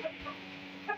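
Broody hens clucking softly, a few short low clucks close by at the start and end over quiet background.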